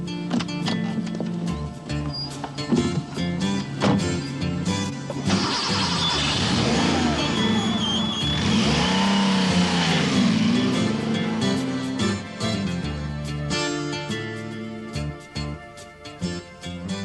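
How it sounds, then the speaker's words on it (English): A Porsche 959 supercar engine revs during a ride, loud and continuous, with the pitch sweeping up and down through the middle section under a dense, steady mix. "So let's go and take a ride in the car of the 21st century."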